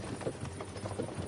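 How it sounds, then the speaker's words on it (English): Horse hooves clip-clop steadily in the medieval role-playing game Kingdom Come Deliverance 2, a rhythmic run of fairly soft, evenly spaced beats under a dense background wash. "Whip those fucking horses."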